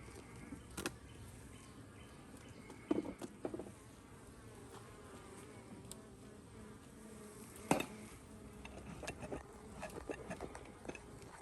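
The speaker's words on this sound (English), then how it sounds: "Just like a couple of bees." Honeybees buzz faintly around a hive during an inspection after a swarm. Only a few bees are present: a soft, continuous drone with occasional brief nearby passes and light taps.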